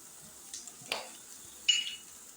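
Spices and curry leaves fry in a pan as a spoon stirs them. A faint, soft hiss carries a few scattered scrapes and a single louder clink near the end, with no voices.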